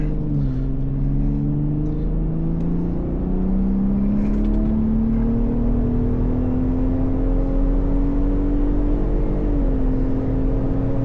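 A 2024 Ford Raptor with a 10-speed transmission accelerates on the highway, its engine drone climbing steadily in pitch through a long pull and dropping briefly at a gear change, heard from inside the cabin over road noise, with no talking.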